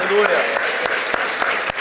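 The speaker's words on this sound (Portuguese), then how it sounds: "Dê um aplauso ao Senhor" Enthusiastic applause from a church congregation, dense and continuous clapping with a few sharper claps standing out.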